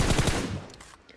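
Rapid automatic bursts from an M416 assault rifle in the shooter game PUBG, loud and close at first, then fading into quieter echoing shots and trailing off, with no talking.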